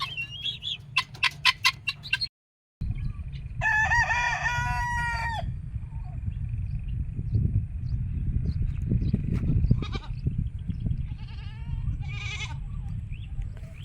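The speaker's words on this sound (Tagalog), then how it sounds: "mga manok na bingala. Maiingay mga kadugo." A rooster crows loudly, followed by hens clucking and bleating-like calls against steady outdoor background noise.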